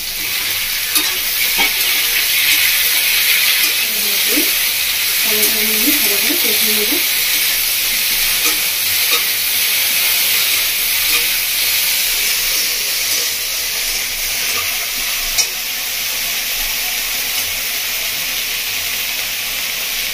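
Sliced okra fries in a hot pan with oil, onions and chopped tomato for village-style bhindi masala, giving a loud, steady sizzle and hiss close up, with a few faint scrapes and clinks and no voices.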